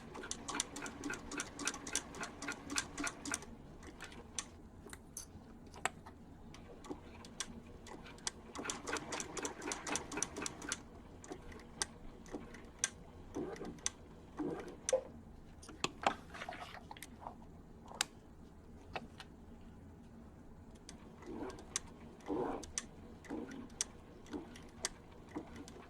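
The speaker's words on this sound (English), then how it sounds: "I do stitch slower on a raw edged project" A sewing machine stitches a composition book cover in bursts of rapid, close ticking, fast runs early on giving way to slower, spaced stitches separated by pauses.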